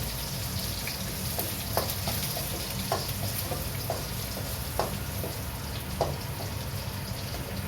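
Ginger and vegetables sautéing in a pan give a steady, close sizzle, with occasional soft scrapes and clicks from stirring and no talk.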